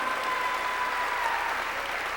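Steady applause from a large church congregation during a sermon, an even wash of clapping that holds at a moderate level for a couple of seconds.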